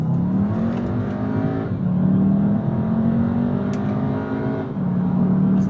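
A Volkswagen Jetta in sport mode accelerates hard around a corner, its engine droning and rising in pitch through the gears with brief dips at the shifts, close and loud from inside the car.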